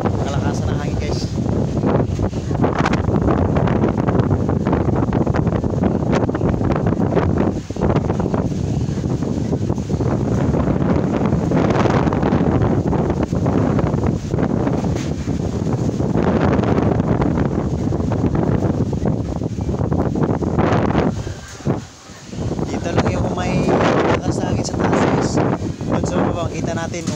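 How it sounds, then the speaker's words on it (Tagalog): Strong wind roars and buffets the microphone almost nonstop, a loud, rough rumble with gusts, briefly dropping out near the end. "kalakasan ng hangin guys"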